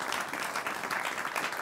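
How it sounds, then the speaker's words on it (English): An audience breaks into dense, even applause, a steady wash of clapping that fills the short moment without a break. "I think that deserves a round of applause, guys, there."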